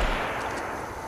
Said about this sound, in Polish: A tu nie, wybuch granatu